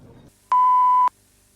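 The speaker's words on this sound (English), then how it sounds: "a little notification popped up on my phone while I was recording this" A single clean electronic beep from a phone notification, steady and loud for about half a second, close to the microphone, then quiet room tone.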